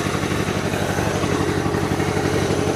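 An untested tractor engine runs at a steady idle, a loud, even mechanical chug with rapid regular pulsing and rattling clatter, close by with no talking.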